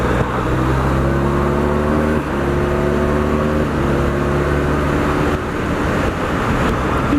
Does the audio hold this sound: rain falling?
no